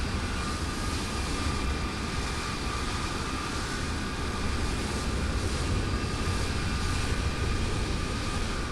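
A cargo airliner taxiing past in a flight simulator, with a steady, unbroken engine roar and whine that stays loud and even throughout, no talk.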